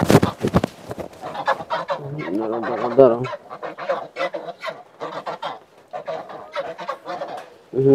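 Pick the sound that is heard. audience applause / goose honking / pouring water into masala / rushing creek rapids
goose honking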